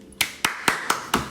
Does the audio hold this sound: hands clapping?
yes